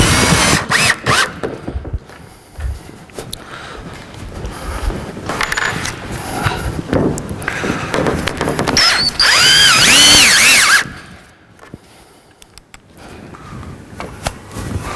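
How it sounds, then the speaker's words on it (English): A power drill drives screws through a shelving backboard on pallet racking, with bursts of whirring and ratcheting that rise to a loud, sustained run near the end before dropping away. "So I'm just going to go along and put my wing tex here to fix the board securely."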